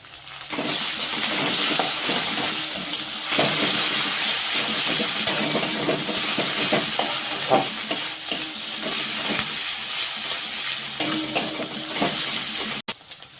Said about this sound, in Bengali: এবার আমি এর মধ্যে রসুন বাটাটা দিয়ে দিচ্ছি।